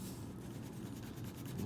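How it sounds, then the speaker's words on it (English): A board eraser rubbing out a chalk line, giving a short, soft, dry scrubbing sound that is quiet and close, lasting under two seconds with no talking. "All right, time for the eraser. Erase this line right here."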